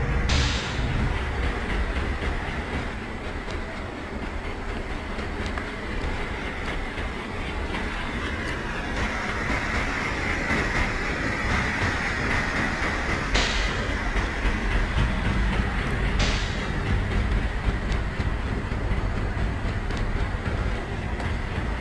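A superfast express on the New Delhi to Rajgir route in the MSTS train simulator, led by a WAP-7 engine hauling ICF coaches, rumbles steadily with continuous wheel and rail noise and occasional clicks, running close and loud throughout.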